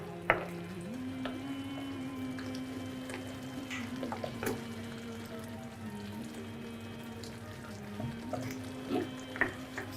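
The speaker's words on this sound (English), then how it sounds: "that just simmers away for the next hour" A pot of beef tagine simmers quietly on the stove, giving a soft, continuous sizzle and bubbling with small irregular pops and a faint steady hum underneath.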